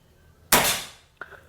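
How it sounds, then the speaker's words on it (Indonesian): A Bocap Guardian X PCP air rifle fires a pellet: one sharp, loud crack with a quickly fading tail, then a faint, short click less than a second later. "Tadi sudah 2 kali, ini tembakan ketiga."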